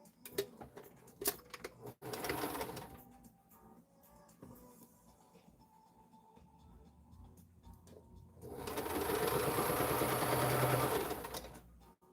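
A sewing machine stitches a seam in a short run followed by a longer, louder continuous burst of close whirring, with taps and handling clicks before it.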